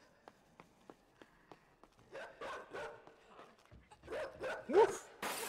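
Barking from a hostile dog in the video game INSIDE, a few sharp woofs that grow louder and closer near the end, following a run of light footsteps and small rhythmic thuds.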